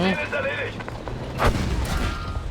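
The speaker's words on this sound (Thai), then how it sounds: "อุ้ยใครมันยิงตรงนั้นวะยิงทำไมเพื่อนใครอนุญาตให้ยิง" Gunfire in the World War II shooter Battlefield V, with booming reports and crackling shots under a low rumbling battlefield din, while a voice talks over the start.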